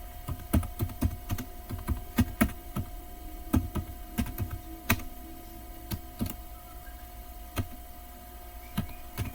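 Typing commands on a computer keyboard for a Linux Ubuntu server, with sharp, irregular key clicks in quick bursts and short pauses, close and fairly quiet over a faint steady hum.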